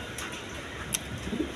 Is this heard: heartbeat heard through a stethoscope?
no